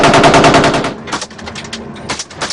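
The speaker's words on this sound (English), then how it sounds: "ordering our journalist Franklin Masharia to lie low as they fired back" Kenyan soldiers return fire at Al-Shabaab attackers in a loud, close burst of rapid automatic gunfire, followed by a few more scattered bursts and single shots.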